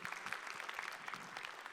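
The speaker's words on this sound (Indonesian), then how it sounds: "Tepuk tangan untuk semua Dewan Juri yang terlibat dalam penghargaan Ahmad Bakri ke-21 hadirin sekalian." Audience applause for the jury at the 21st Achmad Bakrie Award ceremony, a steady wash of many hands clapping in a hall, moderately distant and continuous.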